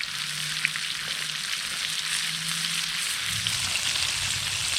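A honey butter biscuit frying in hot oil, a dense, steady bright sizzle that holds throughout at close range, with a low hum underneath and no talking.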